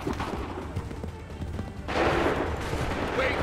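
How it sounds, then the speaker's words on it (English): Musket volley fire in the Assassin's Creed 3 Lexington battle: a dense, crackling burst of massed gunfire breaks out about halfway through and rolls on loudly over a constant battlefield din. "Make ready! Fire now!"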